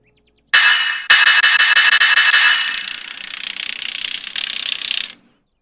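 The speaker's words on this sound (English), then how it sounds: "we just gotta tighten these lug nuts, and they're really tough to turn" A car's lug nuts are tightened with a ratcheting tool, giving a loud, close, rapid run of clicks after a sharp initial snap, continuing steadily for several seconds and then stopping abruptly.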